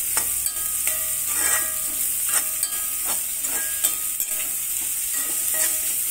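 Onions sauté in a pan for a fish curry, giving a steady, loud sizzling hiss broken by regular light scrapes and clicks as they are stirred.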